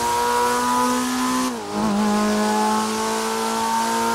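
A car engine in Grand Theft Auto V drones steadily at high revs, dips briefly with a quick blip, then settles back into a constant loud exhaust hum.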